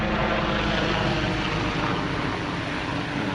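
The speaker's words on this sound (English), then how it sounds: "helicopter up there" A helicopter passes overhead in a wooded outdoor setting, a steady loud engine and rotor drone filling the whole stretch without a break.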